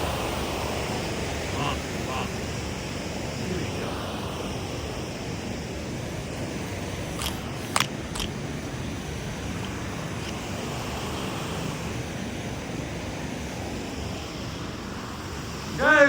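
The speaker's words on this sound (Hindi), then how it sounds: "बट और पानी का शोर कितना अच्छा लग रहा है" Continuous rushing roar of the Rishiganga mountain river near Badrinath, a broad steady wash of water noise heard from nearby outdoors, with a few brief higher clicks and faint wind mixed in.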